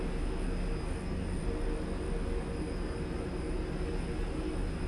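Steady, loud drone of the Tupolev Tu-114 airliner's engines in Flight Simulator X, a continuous broadband roar with a faint high whine, unbroken for the whole stretch with no talk.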